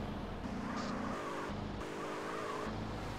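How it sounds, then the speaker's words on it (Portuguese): A Renault Kwid in GTA driving on two burst tires, a loud continuous engine drone with scraping and skidding tones, shifting pitch as it moves. "Dirigindo o carro aqui com os dois pneus totalmente lascado"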